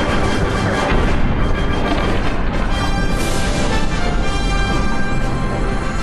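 Loud, dense blast noise from a first-person shooter explosion, a sustained rumbling roar with crackling debris that fills the whole stretch with no clear pauses.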